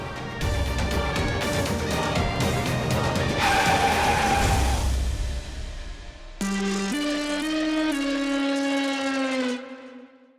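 A car skids with failed brakes in a dramatic scene, a long loud tonal tire screech with roaring engine, breaking off then resuming as a sustained wailing squeal that fades out.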